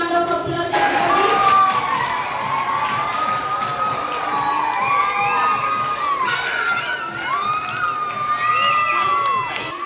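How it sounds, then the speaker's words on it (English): A school audience at a storytelling competition cheers prize winners, a dense, steady roar of children's shouts and whoops filling the room without a break. "Let us give them a huge round of applause, everybody."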